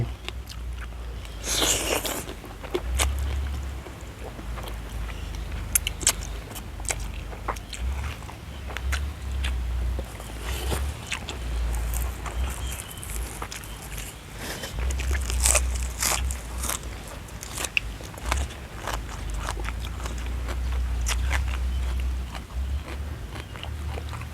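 Repeated close crunchy bites into crispy-skinned pork belly with tender meat, sharp crackles followed by wet chewing, recurring irregularly throughout with no talk.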